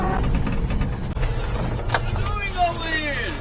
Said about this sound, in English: Now this is a very loud car, so I'm curious how the microphones are going to work on this.